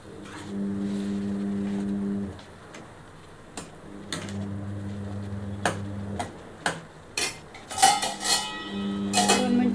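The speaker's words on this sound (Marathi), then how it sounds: "वाटण सुद्धा चांगलं परतवून घेऊया." Masala paste for chicken liver curry is stirred in a pan, with intermittent close scrapes and clinks of utensil against metal over a steady low hum, without speech.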